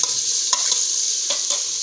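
Two medium tomatoes go into chicken frying in oil, giving a steady, loud sizzle with a few scraping stirs of a spoon against the pan.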